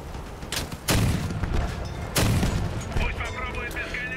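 Two heavy, booming gunshots ring out in the vehicle-combat game Crossout, about a second apart, each followed by a rumbling tail over continuous engine and battlefield noise.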